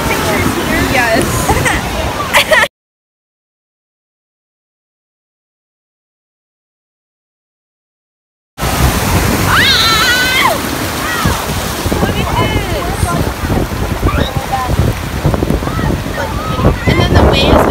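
Surf breaking along a beach, a steady broadband wash of waves and wind noise with a gap of silence partway through; people's voices and chatter can be heard over the water.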